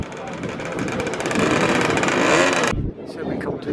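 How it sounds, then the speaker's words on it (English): Scooter engines rumble and rev at a bank holiday scooter rally on a seafront, with hundreds of scooters gathered. The engine noise is loud and close, someone talks over it, and the noise drops off abruptly near the end. "Here there are hundreds of scooters,"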